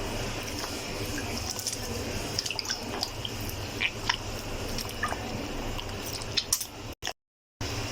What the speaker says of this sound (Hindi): इसको पानी को डालकर हम इसमें अच्छे से इस तरह से अच्छे से मसलते जाएंगे